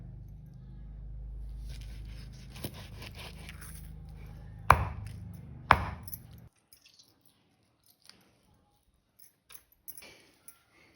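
A knife chops fresh pomfret into small pieces on a hard board, two loud close thwacks with a few lighter taps before the background drops away to sparse faint clicks.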